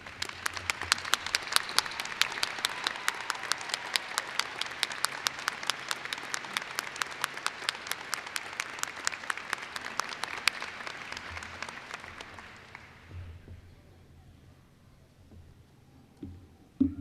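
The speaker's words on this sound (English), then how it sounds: "join me by honoring them with your applause" Sustained, dense applause from a large commencement audience honoring standing faculty and emeritus professors, steady and loud for about twelve seconds before thinning out and fading to a quiet hall.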